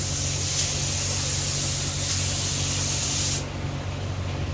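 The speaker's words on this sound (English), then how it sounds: "putting more paint on the windshield" Spray paint hissing onto the windshield of a 1991 Honda CRX Si under restoration. The hiss is continuous, close and loud, with the nozzle pattern shifting slightly partway through and no voices over it.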